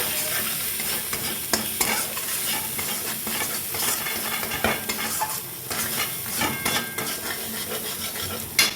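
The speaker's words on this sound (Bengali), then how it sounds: "এবার খুব ভালো করে আমি কষিয়ে নেব সমস্ত মশলাগুলো" Ground cumin, coriander, salt and garam masala are sautéed and stirred in a pan. A close sizzle runs throughout, broken by frequent scrapes and taps of a metal spoon against the pan, and no one talks.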